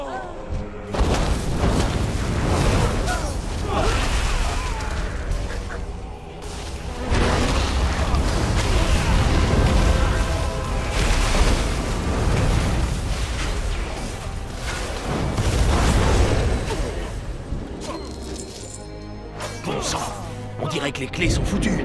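Explosions in the video game World of Warcraft, a string of loud booms and crashes repeating through the scene while a voice talks over them.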